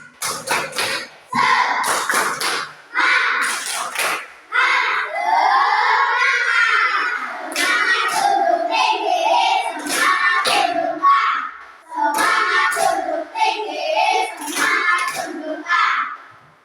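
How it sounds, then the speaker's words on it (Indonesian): Schoolchildren in a classroom perform a rhythmic spirit clap, bursts of patterned clapping alternating with chanted group voices, loud and close, repeating in short phrases. "Tepuk semangat."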